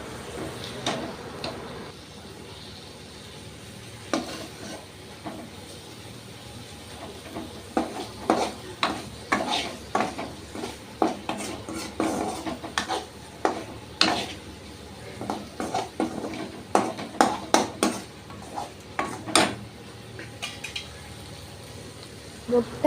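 Egg masala fry is flipped and stirred in a pan, with repeated metal spatula scrapes and clinks over a low frying sizzle, growing busier and more rhythmic toward the end, while a voice speaks intermittently.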